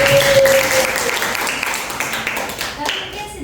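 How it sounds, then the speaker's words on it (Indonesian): A high-school classroom breaks into applause, a short burst of clapping from a group of students that fades over a few seconds, with talking mixed in. "ayo kasih tepuk tangan"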